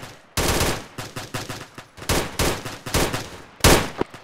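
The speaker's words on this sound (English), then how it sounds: "Gunfire northeast." Machine gun fire in Arma 3, loud repeated bursts of automatic gunshots in irregular rhythm with short gaps between, up close and with no talking.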